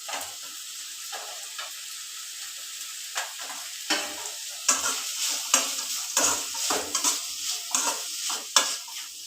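Grated coconut is stirred into fried tomato and onion for an egg and chicken sambar, with a soft steady sizzle and repeated scraping stirs growing louder and more frequent toward the end.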